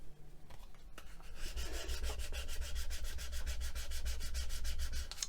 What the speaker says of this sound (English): I'm just going to smooth it down and get it pressed into that back piece of veneer